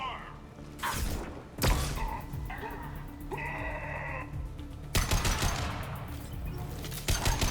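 Gunfire in a Mass Effect 2 firefight, loud bursts of rapid weapon fire and impacts in bright clusters, with gaps of game noise and voices between volleys.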